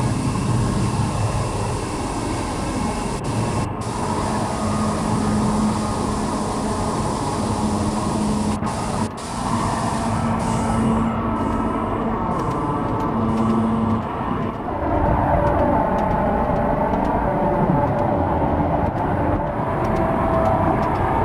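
A subway train runs steadily on the track, with a constant loud rumble and whine from inside the car, a few clicks and clunks along the way, and no voices.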